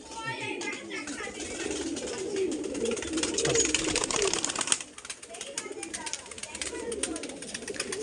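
Pigeons coo in a loft, including a female of a Kaldom, Laldom or Kalasabuj pigeon. Low, soft cooing rises and falls throughout, mixed with rustling, handling noise and a speaking voice.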